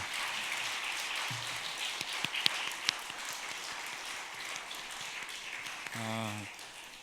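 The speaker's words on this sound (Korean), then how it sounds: "우리 마지막으로 다 들어가실 때까지 박수로 응원했으면 좋겠습니다" Soft, distant clapping from a congregation fills a reverberant church during a retirement thanksgiving service, with faint murmuring voices and a brief musical tone near the end.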